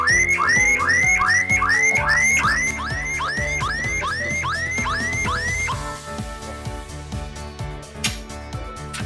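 A light passenger car's alarm sounds close and loud, with rapid rising whoops repeated over and over, then switches to a different warbling and chirping pattern for the final few seconds.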